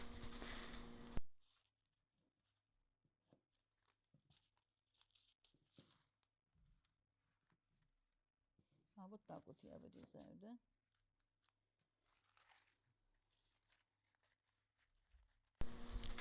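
Scissors snip through fabric while a dart is cut out of an overcoat pattern, faint close crisp cuts and rustles scattered through quiet stretches, with a busier run of snips midway and louder handling at the start and end.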